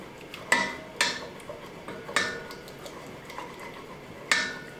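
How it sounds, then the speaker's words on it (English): A utensil stirs cashew kale pesto into tomato paste in a bowl, producing several sharp, irregular clinks and taps against the dish, close and fairly quiet, with no talking. "I just want to give this a quick stir to get it kind of mixed together here"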